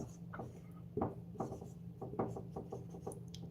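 Hand writing scratches in short, quiet strokes and taps, close by, in an otherwise quiet room.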